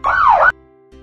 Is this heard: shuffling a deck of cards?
no